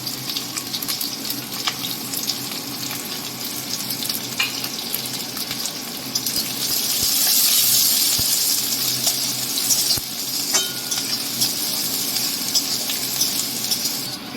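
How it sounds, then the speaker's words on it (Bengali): Onions frying lightly in a pan with bay leaves and green chillies for a soybean curry, a steady soft sizzle throughout that swells briefly midway, with no voices. "পেঁয়াজটা হালকা করে ভেজে নিয়েছি, একদম লাল লাল করে ভাজলে হবে না।"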